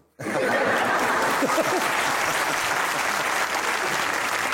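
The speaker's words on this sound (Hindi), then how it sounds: "ताली होनी चाहिए मुस्तफा भाई के लिए" A game show studio audience bursts into loud, dense applause for Mustafa Kamal. It starts abruptly and holds steady throughout, with a few chuckles and voices mixed in.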